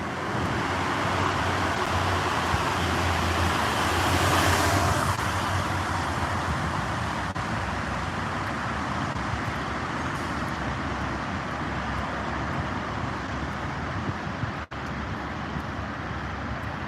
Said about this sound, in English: So here comes a vehicle.